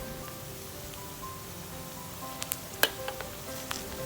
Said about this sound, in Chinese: 我们炒到这样，我们的材料有点金黄的